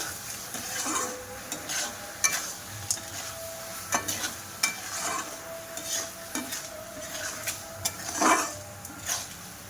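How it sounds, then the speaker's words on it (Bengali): Chopped green mango cooking in sugar syrup for a sweet mango pickle, a steady soft sizzle and bubble with repeated scraping and clinking stirring strokes against the pan, close and without talk. "ওই আমগুলো আমি দিয়ে দেব মিশ্রির মধ্যে। দিয়ে এবার জাল করে নেব ভালো করে।"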